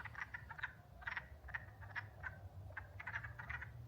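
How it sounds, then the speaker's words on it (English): Frogs croaking on a spring evening in Kawartha Lakes, Ontario, a faint chorus of repeated short trilling calls at mid distance over a low steady background hum, no talking. "That'd be a frog, right?"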